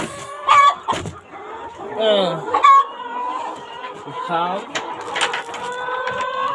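Hungry farm chickens clucking and squawking in a poultry house, with several overlapping calls and short crowing-like cries rising and falling throughout, close and fairly loud against a busy background.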